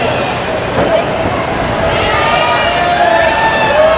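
A crowd at a wrestling club event on a military family day cheers and shouts steadily, a loud, continuous roar of voices with excited yells rising over the noise.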